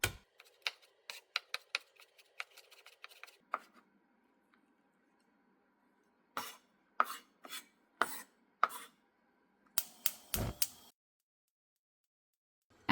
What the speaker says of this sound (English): Mince 1 tablespoon of garlic and set aside.